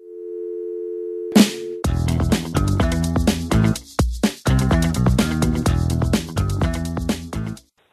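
A telephone line tone on a radio call-in show as the phone lines open: a steady held tone, then a burst and a loud run of pulsed, buzzing phone-line signals that stop and start for several seconds.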